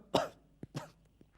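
A man with a mild cough gives two short, close coughs in quick succession, followed by a faint catch of breath, in a quiet indoor scene from a television drama.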